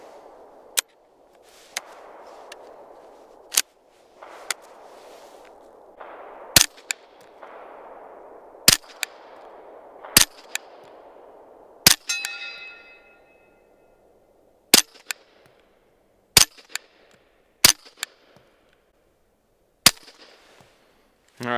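Suppressed pistol shots from a Sig P320 / M17 fitted with an Omega 9K suppressor, a series of sharp, muted cracks fired one at a time at irregular intervals, with a faint ring after some and a quiet wash of background noise between shots.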